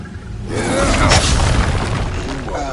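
A deep booming blast from the Expulso explosion spell in the video game Hogwarts Legacy bursts in after a brief quiet moment, then a rumbling, crackling tail lingers with faint scattered effects behind it.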